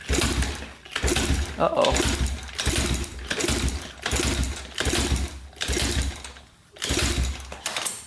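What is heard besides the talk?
old pit bike engine being kick-started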